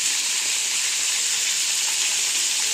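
Young hadga flower pods cook in hot oil with turmeric and salt, giving off a steady, dense hiss like steam, even in level and close by.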